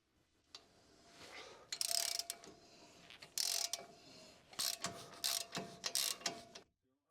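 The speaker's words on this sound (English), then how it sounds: "use a 27mm short socket with the extendable ratchet to loosen the strut to rear axle" An extendable ratchet with a 27mm short socket loosens a rear strut-to-axle bolt on a 2021-2024 Ford Bronco 4WD, producing irregular bursts of close, crisp clicking separated by brief pauses in a quiet space.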